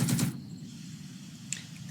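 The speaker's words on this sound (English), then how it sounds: "We'll fire the main turret machine gun and break them." A short burst of tank turret machine gun fire in the wargame Second Front, a quick rattle of rapid shots that lasts about a quarter second and then fades into a low hum, followed later by a faint click.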